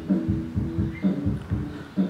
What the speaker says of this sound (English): Those drums you can hear are coming from the young man next door.